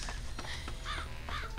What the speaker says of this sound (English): Stupid crows.